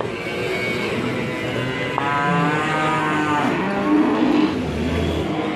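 A giant, muscular cow weighing nearly one ton lets out one long, drawn-out moo partway through, set against steady outdoor background noise.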